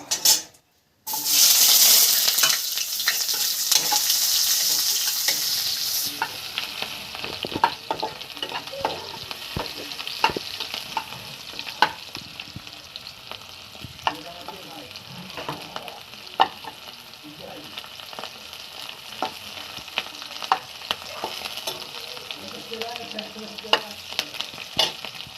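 Onion sizzles and fries in a hot pan while a spatula stirs and scrapes it in frequent clinking strokes, loud at first then a steady close sizzle with repeated metal taps.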